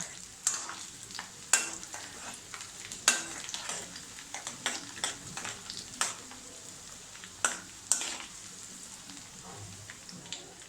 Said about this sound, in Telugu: ఆవాలు మెంతులు ఎండుమిర్చి కూడా వేసుకొని ఫ్రై చేసుకోవాలి